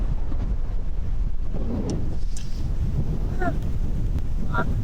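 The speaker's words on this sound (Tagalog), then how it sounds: "Grabe ang hangin." Strong wind on Boracay roars and buffets the microphone steadily throughout, a loud low rumble with faint voices and a few distant chirps underneath.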